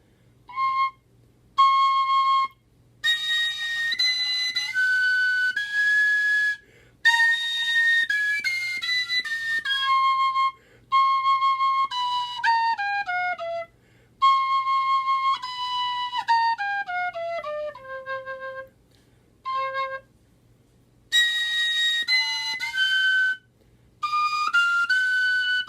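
A tin whistle plays a slow melody of clear, bright sustained notes in short phrases separated by brief pauses, with the lowest hole half covered, loud and close with a faint steady hum underneath.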